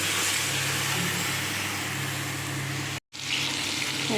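Mutton added to hot oil and fried spices in a pan, giving a steady loud sizzle and hiss that cuts off briefly near the end, then resumes.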